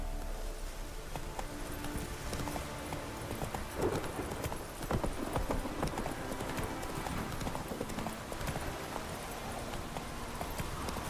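Hooves of the horse Roach clip-clop in a fast, steady gallop through The Witcher 3, a continuous rhythmic pounding over game ambience with no talk.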